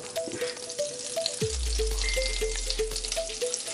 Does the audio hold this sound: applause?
no